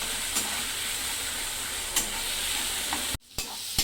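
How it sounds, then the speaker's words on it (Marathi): Finely chopped tomato added to onions frying in a pan, giving a steady close sizzle and hiss with a few soft stirring clinks, briefly interrupted near the end. "आता बारीक चिरलेला टोमॅटो आता हे घालायचं आहे आणि मऊ होईपर्यंत आता ह्याला पण शिजवून घ्यायचं आहे।"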